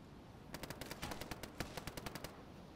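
Distant gunfire in DayZ Standalone crackles faintly: a long run of sharp shots in irregular bursts over a low background hum, with no talk.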